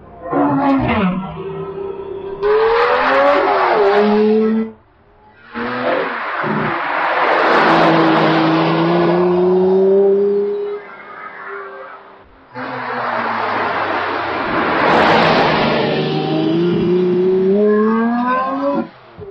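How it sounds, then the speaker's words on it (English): A Lamborghini Reventon supercar driving on the road bellows loudly in repeated bursts, each pull climbing in pitch through the gears, broken by brief near-silent lifts off the throttle. "when you are driving along the road in your Lamborghini Reventon"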